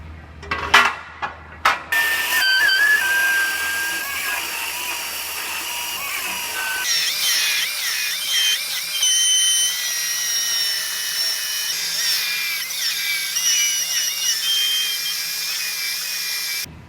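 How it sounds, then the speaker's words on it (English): Power tools work through car body spot welds in a bodyshop: a few sharp knocks, then a loud high-pitched whining grind that shifts pitch and continues steadily, close and without talk. "So you might be wondering why I drilled the 1/8 inch pilot holes in the center of each weld"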